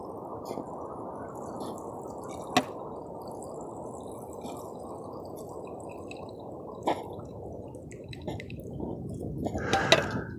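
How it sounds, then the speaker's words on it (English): Boiling water poured over pine needles to make tea gives a steady, close liquid rush for about ten seconds, broken by a couple of sharp clinks and brightening toward the end. "pour the boiling water over the needles"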